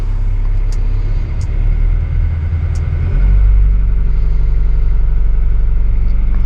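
A pond-digging machine's engine rumbles steadily at close range, then swells into a louder, deeper roar as the throttle is opened partway through and holds there.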